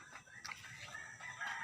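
Backyard roosters and hens clucking with brief crowing bursts, fairly faint and close by, set over low outdoor noise with no talking.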